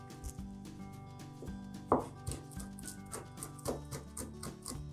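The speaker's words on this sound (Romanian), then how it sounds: "frunzele de rozmarin. Tocați-le și pe acestea mărunt." Rosemary leaves are finely chopped with a knife on a cutting board for stuffed peppers: a run of crisp, irregular blade taps with one sharper knock near the middle, set under steady background music.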